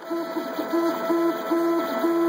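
A 5th generation MakerBot Replicator 3D printer extrudes its first print, giving off a steady whirring with a repeating pattern of stepper-motor tones and a constant high fan whine, close and continuous.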